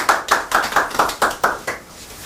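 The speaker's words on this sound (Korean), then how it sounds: "자, 박수 힘껏 주십시오." Sharp, evenly spaced claps ring out at a fortune-telling lecture, about seven distinct loud hits at a steady rhythm, fading away near the end, as though from a few people or one person.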